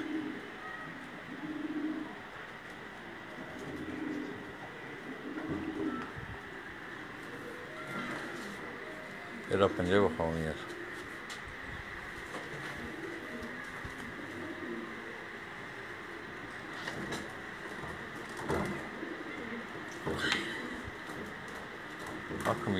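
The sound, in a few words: pigeons cooing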